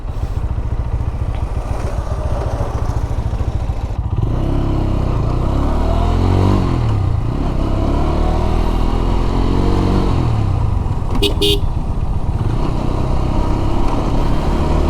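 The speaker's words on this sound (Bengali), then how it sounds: "যাক বাইকে যাইতে দেই" A motorbike ridden along rural routes in Faridpur hums close and loud, its engine pitch rising and falling as the rider speeds up and eases off, with a short rattle near the end.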